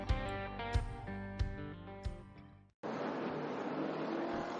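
Street stock race cars roar around Boomtown Speedway, first a series of rising engine tones under a heavy low rumble, then a sudden broad, steady engine wash from the pack at full throttle.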